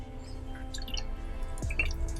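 Vinegar trickles in a tiny amount onto a garden salad with chicken, heard as a few faint, soft drips and wet splashes against a quiet background, with no speech.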